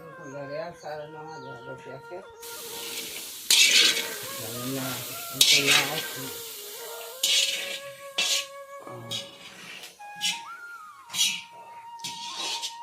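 Chickpeas tempered in a pan over a clay chulha stove, sizzling as they are stirred with scraping strokes. A voice talks over the frying, and high, whistle-like tones drift in the background.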